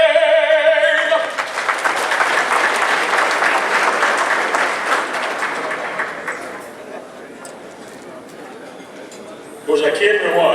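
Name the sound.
audience applause at luncheon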